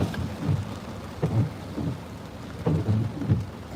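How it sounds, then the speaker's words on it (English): Heavy rain pours steadily with low rumbles of thunder rolling underneath in repeated swells, a dense outdoor storm wash with no voices. "Look how hard it's raining now."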